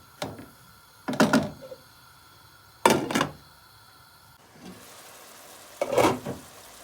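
Ingredients for a purslane dish sauté slowly in a pan over low heat, giving short bursts of sizzling each time they are stirred, separated by quiet pauses, with no talking.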